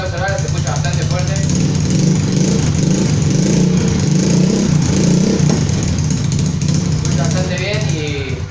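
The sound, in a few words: motorcycle engine and exhaust running indoors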